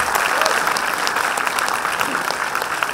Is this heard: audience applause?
yes